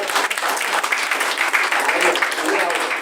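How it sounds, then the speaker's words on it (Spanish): A church congregation applauds during a service, sustained dense clapping at close range with a few voices calling out beneath it. "Ahora regálese un aplauso a usted por lo bien que hizo"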